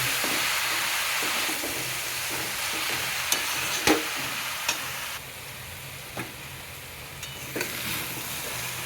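Chopped banana flower sautéing in a pan, a steady close sizzle with scraping stirs and a few sharp clinks of the spoon against the metal, no voices over it.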